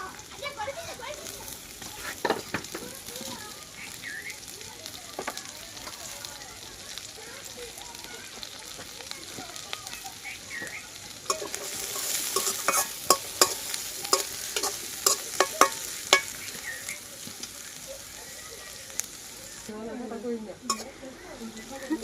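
Chopped onion and garlic frying in a pan with green chilies for a fresh tomato mash, a soft continuous sizzle broken by stirring scrapes and utensil clatter that grows busier midway.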